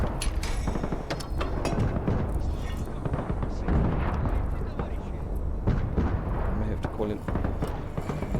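45mm rounds striking a heavily armored StuG assault gun in Gates of Hell: Ostfront, dense repeated booming impacts and gunfire in a loud battle din, with a voice talking over it.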